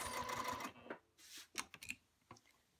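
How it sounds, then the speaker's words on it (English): A sewing machine stitches across cork fabric: a short run of whirring stitches, then a few quiet, isolated stitch bursts with pauses between them, faint overall. "Sew across,"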